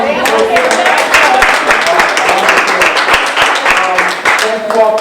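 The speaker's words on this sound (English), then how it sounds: "Give her a round of applause." Audience applause for a superintendent at an advisory committee meeting, dense, sustained clapping from a crowd for about five seconds, with some talk underneath.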